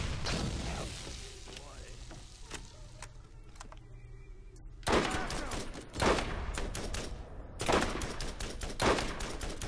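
Rapid gunfire bursts from the video game Borderlands, dense crackling volleys that fade into quieter scattered shots and then return loudly in repeated sharp clusters, with faint voice in the background.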